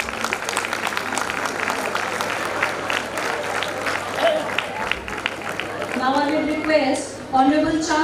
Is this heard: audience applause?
yes